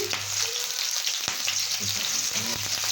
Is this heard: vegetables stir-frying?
yes